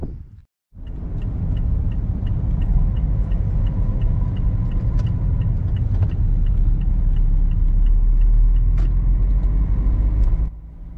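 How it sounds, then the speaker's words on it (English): A car driving across Swarkestone Bridge in South Derbyshire, a steady close rumble of engine and tyre road noise that holds for about ten seconds, with faint rattles over it. "we need to drive across Swarkestone Bridge"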